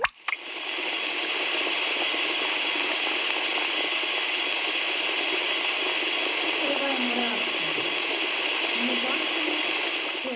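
Chocolate reacts in concentrated sulfuric acid and hydrogen peroxide with a steady, loud fizzing hiss like vigorous bubbling and boiling, holding constant close to the microphone for the whole stretch after a brief opening knock.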